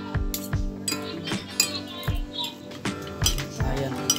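A metal utensil clinks repeatedly against a bowl while pork sisig is mixed with mayonnaise, a quick, uneven run of close, bright taps and scrapes.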